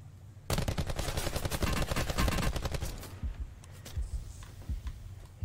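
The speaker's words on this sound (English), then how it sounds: "Still got sniper fire going off towards the beach by the gas station." Gunfire in a multiplayer video game, a rapid crackling burst of shots lasting a few seconds that thins into scattered distant pops.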